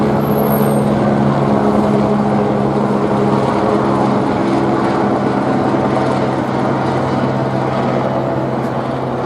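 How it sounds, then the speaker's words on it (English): Helicopters fly overhead, producing a loud, continuous low rotor drone that holds steady with little change, with no talking over it. "those helicopters flying overhead all the time like that"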